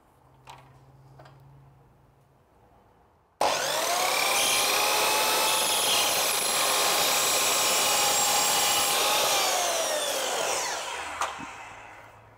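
Power saw cuts a length of Lauxes grate with a loud, steady high-pitched whine lasting about seven seconds. It begins abruptly after a quiet lead-in and winds down near the end.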